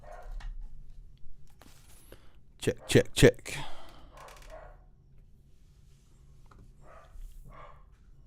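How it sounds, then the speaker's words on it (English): A dog barking indoors during a live stream, three or four quick, loud barks in a tight cluster, with a person talking before and after. "There goes my dog."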